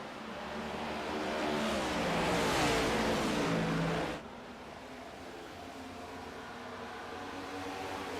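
Race cars running around the Homestead track in a racing video game, a loud engine drone that swells for a few seconds as cars pass, then drops abruptly to a quieter steady hum.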